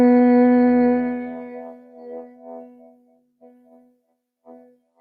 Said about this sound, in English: through your exhale, you're going to start to hum.